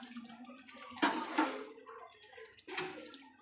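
Water poured into a pot of partly boiled chicken, two short splashing gushes heard close up with quieter clinks and drips between them, no talking.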